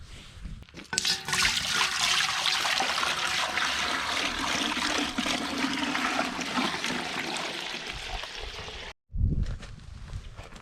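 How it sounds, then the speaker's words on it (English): Maple sap pours in a steady, gushing stream into a pan set over a wood fire, loud and close for several seconds before stopping, followed by a brief splash. "I'll dump the sap on here and boil it down"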